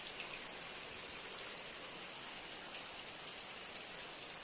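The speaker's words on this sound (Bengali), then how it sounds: "গাছের পাতায় বৃষ্টি ফেলছি কত সুন্দর" Rain pours onto tree leaves, a constant close hiss of countless drops with no voices.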